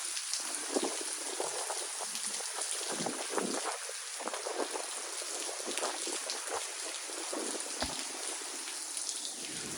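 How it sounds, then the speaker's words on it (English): Hurricane-driven rain lashes past a covered porch in Louisiana, a dense steady hiss of blowing rain with gusty surges throughout, no voices. "The rain is just blowing."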